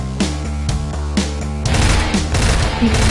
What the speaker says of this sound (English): Press right fire button to shoot.